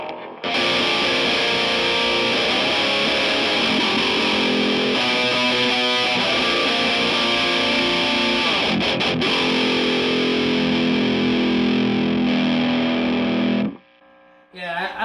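An electric guitar played through an Electric Eye Audio Mud Killer overdrive pedal gives heavily distorted, sustained chords and riffs, loud and close, playing continuously for several seconds and then cutting off abruptly near the end.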